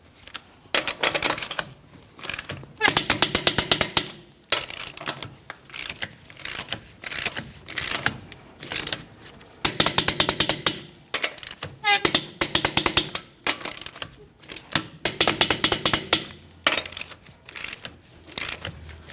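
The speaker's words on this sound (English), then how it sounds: "Let's go ahead and torque each one of our lug nuts to that 148 foot-pounds" Torque wrench tightening the lug nuts to 148 foot-pounds on the wheel of a 2015-2025 Ford Transit 250, heard as repeated bursts of sharp metallic ratcheting clicks separated by brief pauses.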